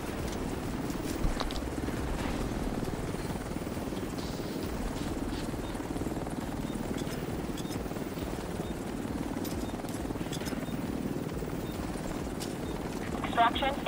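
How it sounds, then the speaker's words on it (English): A helicopter arrives for extraction in The Division 2, its rotor a steady, dense low thrum that fills the whole stretch while gunfire pops faintly in the background. "Chopper on site. Helo is on site."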